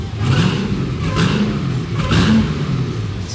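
A 1,000-horsepower engine in a '58 Plymouth Fury revs loudly and close by, rising in two or three throaty surges over a deep, continuous rumble.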